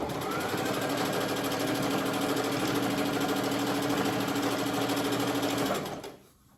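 A sewing machine stitches a designer tote bag in one continuous run, a loud, steady mechanical whir with a fast rhythmic chatter from the needle, stopping near the end.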